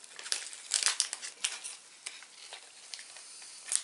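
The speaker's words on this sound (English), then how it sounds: "then add powder from the blue packet, stir until thick like cooked rice" Sushi candy powder mix being stirred until thick, soft close scraping and gritty crinkling strokes in an irregular rhythm, quiet, with no talking.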